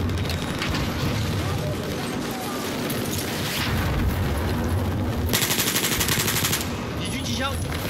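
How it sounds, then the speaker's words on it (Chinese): Enemy machine gun fire in Battlefield 4 rattles in rapid bursts amid a dense, noisy battle mix, the rapid firing growing louder and more distinct toward the end. "敌军机枪"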